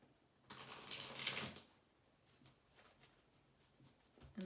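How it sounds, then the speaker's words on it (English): A deck of tarot cards is shuffled in one brisk, crisp riffle lasting about a second, followed by quiet handling and a few light card taps, close and soft. "Okay, I'm going to do my regular shuffle."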